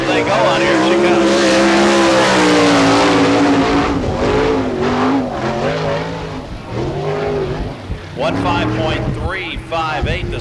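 A sprint race car at speed on a dirt oval during an All Star Circuit of Champions Speedweek event in Barberville, Florida, engine roaring loud and steady with pitch swings as it passes, while an announcer talks over it.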